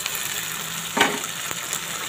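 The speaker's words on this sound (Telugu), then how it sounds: "ఇప్పుడు టమోటా వేగిన తర్వాత ఆలు వేసేసుకుందాం, అలాగే బీరకాయ కూడా వేసేసుకుందాం." Potato and ridge gourd pieces drop into a pan of frying tomatoes, giving one brief burst of louder sizzle over a steady, close crackle of hot oil.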